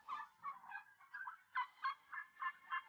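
Young farm turkeys call in a run of short, rhythmic gobbling bursts, fairly close and steady, with no talk over them.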